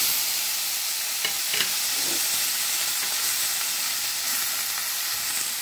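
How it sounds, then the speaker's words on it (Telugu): Chopped tomato pieces fry in a pan for a Chettinad tomato chutney, a steady close sizzle and hiss running throughout with a few soft clatters of stirring and no voices. "ఇప్పుడు అదే ప్యాన్లో టమాటో ముక్కలు కట్ చేసుకొని వేసుకోండి"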